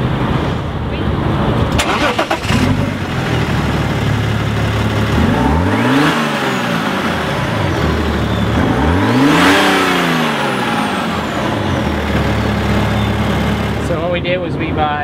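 A Beta Rally Fighter car, its engine making 380 horsepower and 510 foot-pounds of torque, cranks and fires up, then settles into a loud rumbling idle broken by two strong revs that rise and fall, heard up close.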